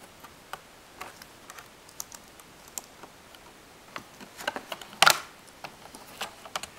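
A Toshiba Satellite laptop keyboard trim piece is pressed into place edge by edge, giving scattered faint clicks and light taps with one sharper snap near the end, close up and quiet, with no talking.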